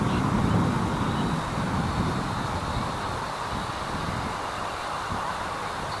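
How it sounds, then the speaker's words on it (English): Steady wind noise buffets the microphone outdoors while a Syma X54HW camera drone flies, a continuous broadband rush and rumble with gusts, loudest early on and easing slightly, with no talk. "It's getting a little bit breezier now."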